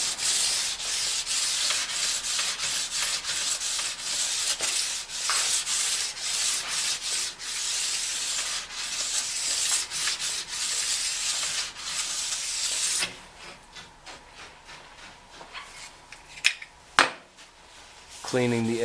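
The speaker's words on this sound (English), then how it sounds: "Cleaning the edge before moving on to the base edge with the 400 grit stone." 400-grit stone honing the edge of a new ski, a loud, close, rhythmic scraping rub in repeated strokes that stops near the end, leaving a few quieter knocks.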